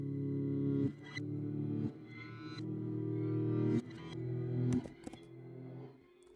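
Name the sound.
grainy guitar through pitch-shifting delay effect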